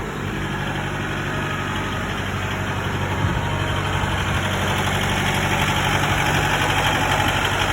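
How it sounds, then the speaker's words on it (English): A tractor fitted with an LA 1154 loader idles nearby, its engine giving a steady, low, throbbing rumble with a faint knocking pulse, continuous and fairly loud with no voices. "This is the LA 1154 loader."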